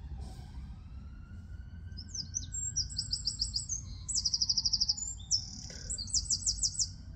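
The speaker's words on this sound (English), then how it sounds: "That robin's very near, probably in that tree." Robin singing close by in a graveyard, bright repeated chirping phrases over a low hum of distant traffic, with a faint siren wail in the background.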